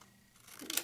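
Scissors give one quick snip through red tape while a diaper cake is being put together, a brief close cut that comes right at the end after near silence.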